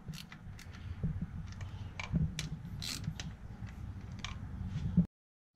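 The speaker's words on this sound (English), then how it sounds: "We got our torque wrench set at 112 inch-pounds." A torque wrench tightens the thermostat housing bolts on a Dodge Hemi engine, set to 112 inch-pounds, giving close, steady mechanical clicks and ratcheting ticks with a low hum underneath that stop abruptly.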